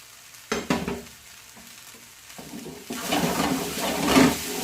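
Chicken shashlik fried rice is stir-fried in a pan, with a few sharp scraping stirs at first and then a rising, steady sizzle as the food fries, close and fairly loud.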